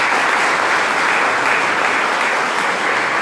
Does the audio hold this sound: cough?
no